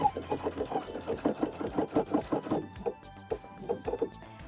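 A sewing machine stitches a pocket seam on a garment side seam. Quick bursts of mechanical needle chatter come in a steady rhythm, then pause and resume more sparsely, close and moderately loud with no talking.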